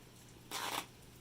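A deck of American flag playing cards gets one quick riffle shuffle close up, a brief crisp flutter in an otherwise quiet room.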